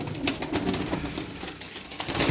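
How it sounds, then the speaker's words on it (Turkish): Pigeons released into the air, with a close fluttering and cooing mix of wingbeats and soft calls over a couple of seconds, no speech. "10 tane kuş atalım Allah'ın izniyle"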